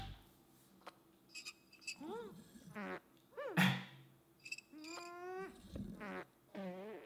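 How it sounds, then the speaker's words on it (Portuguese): Three cartoonish squelchy fart noises from a cartoon shower, with bending pitch, separated by short pauses, mixed among other comic sound effects. "o chuveiro peidou 3 vezes"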